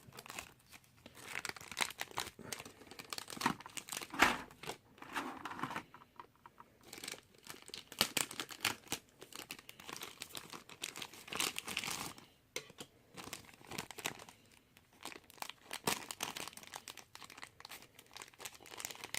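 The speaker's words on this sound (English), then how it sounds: "That's just me ripping this plastic open." Plastic packaging of an S.H. Figuarts Naruto action figure is ripped and crinkled open, giving quiet, irregular bursts of crackling and tearing with short gaps between them.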